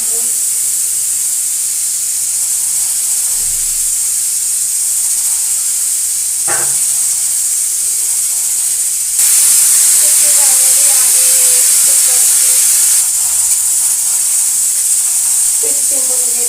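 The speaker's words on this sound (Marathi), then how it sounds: "तोपर्यंत डाळीचं कुकर तयार आहे." A pressure cooker cooking dal hisses steam in a steady high hiss that grows louder midway, with faint kitchen clatter and a brief knock.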